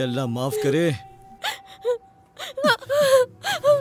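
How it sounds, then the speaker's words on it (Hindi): A girl cries in a Turkish film dubbed into Urdu: a close, wavering wail with gasping sobs, after which people talk in short bursts. "ये लड़की की रोने की आवाज है।"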